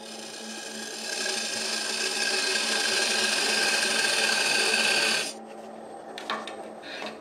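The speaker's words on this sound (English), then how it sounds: "on the back, you use the parting tool and we go in about a quarter of an inch" A wood lathe parting tool cuts a dovetail tenon with a steady rasping scrape that holds for about five seconds, then stops abruptly, followed by a few faint knocks.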